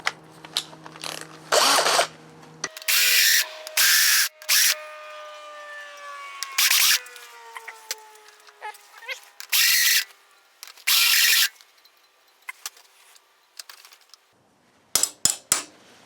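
A countersink bit cleans up drilled holes in a fabricated front motor mount brace for a WR250E motorcycle, sounding as several short loud whirring bursts separated by pauses, with a tool whine spinning down in between.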